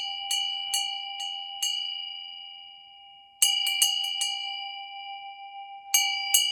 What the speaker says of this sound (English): ringing the bell of respect